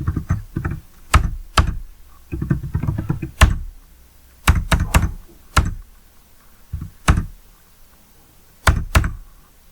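Keystrokes clatter on a computer keyboard while entering an order voucher in Tally ERP 9 accounting software, coming in irregular bursts of quick clicks and separate taps, close and fairly loud, with no talking.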